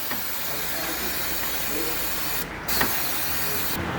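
Aerosol brake cleaner sprayed onto the throttle body of a Fiat Linea 1.3 Multijet, a steady close hiss running throughout with a brief break near the middle before it resumes.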